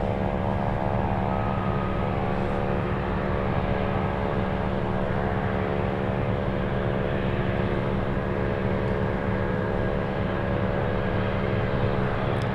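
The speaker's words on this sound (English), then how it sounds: "Singapore Airlines cargo flying to DFW" A Singapore Airlines cargo plane at Anchorage airport in Alaska produces a steady, sustained engine roar with droning tones, heard from a distance and holding even throughout with no talking.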